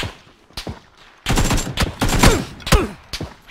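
Gunfire from a PUBG match on the snowy Vikendi map: a couple of isolated shots, then a dense run of loud overlapping bursts and rapid automatic fire with sharp, echoing cracks.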